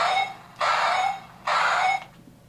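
Trigger effect from a 1993 Mighty Morphin Power Rangers Dragon Dagger toy: two harsh, buzzy electronic bursts of about half a second each, evenly spaced, loud and close.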